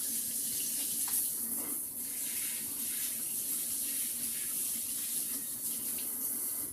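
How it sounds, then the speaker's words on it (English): Mixer beaters rinsed under a running kitchen tap, a steady close splash of water into the sink that continues without pause and with no speech. "I'm gonna rinse these beaters off and we're gonna use them again"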